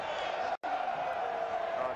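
Crowd of West Virginia Mountaineers football fans standing and applauding at a college stadium away game at East Carolina in 1988, a steady broadband roar of clapping and cheering with a brief dropout partway through.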